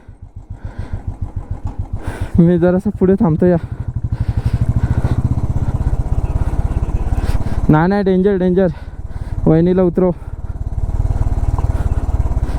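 Motorcycle engine chugging steadily in first gear while climbing a steep mountain road in the Spiti Valley, close and loud, while someone talks in several short bursts over it.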